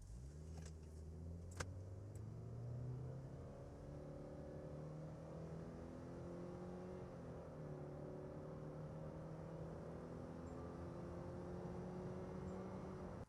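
Subaru Crosstrek e-BOXER hybrid pulling away from a standstill in manual gear mode with two people aboard on a slight uphill, its engine drone steadily climbing in pitch through gear changes, smooth and continuous throughout.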